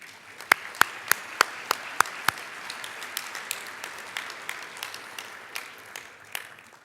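An audience at a panel event applauds the Jesuit priest Marcelo Guidi, starting with a few loud distinct claps near the front and settling into a steady, moderately loud round of clapping.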